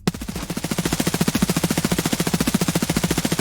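A rapid, loud burst of automatic fire from an HK rifle, shot from a crouched position in the video game Escape From Tarkov, hammers on without pause for several seconds at an even, fast cadence.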